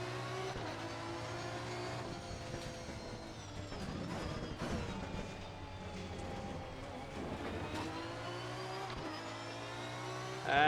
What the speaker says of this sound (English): You can hear the car continuously going, scratching the ground.